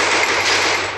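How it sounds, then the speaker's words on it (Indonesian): Rapid automatic gunfire in the Counter-Strike video game, a dense continuous burst of shots filling the whole moment, loud and close. "Contoh Adam saya tembak, si Adam itu bakal tahu posisi saya."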